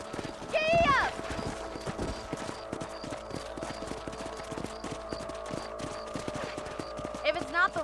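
Horses gallop in Red Dead Redemption, a steady clip-clop of hooves under constant motion, with a sharp whinny near the start and another near the end, plus faint gunfire-like cracks in the mix.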